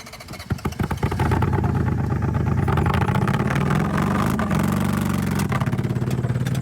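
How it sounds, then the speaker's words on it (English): Minivan engine running louder than normal, a rough droning roar that swells as it revs, with rattling clatter at the start, close and loud, no talk. "this customer came in with their minivan saying it sounded louder than normal"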